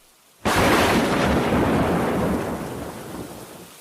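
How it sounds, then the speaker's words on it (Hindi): Heavy rain with thunder outside, bursting in suddenly as a loud, dense roar of downpour and rumbling that holds steady, then eases slightly toward the end, with no voices. "उधर बाहर बारिश और तेज होती जा रही थी"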